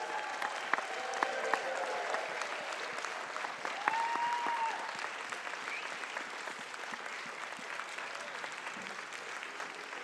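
A church congregation at Unity North Atlanta Church claps steadily and cheers, a sustained wash of applause with a few whoops and a brief high whistle-like call, filling the room throughout.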